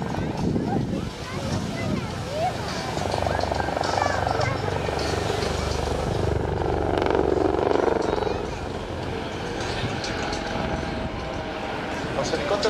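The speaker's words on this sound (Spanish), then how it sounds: "Los helicópteros han roto dos lateralmente y los otros dos a la vertical, quedando emparejados para realizar en primer lugar una maniobra de 2 contra 2" Four Patrulla Aspa display helicopters split apart in a maneuver at the Festa al Cel 2012 air show, their steady rotor drone and engine roar sustained throughout beneath a commentator's voice.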